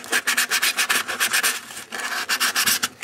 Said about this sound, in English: I'm going to be taking the very fine sandpaper and sanding it down just like this.